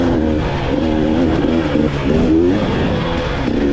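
A 2021 GasGas 300 EC two-stroke dirt bike on a trail bike track pulls hard in first gear, a loud close engine buzz whose pitch rises and wavers continuously throughout.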